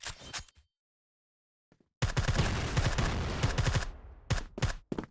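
Gunfire in a competitive first-person shooter match on the Port map: after near silence, a rapid automatic burst of shots fires for about two seconds, followed by a few more quick shots, with brief player chatter at the start.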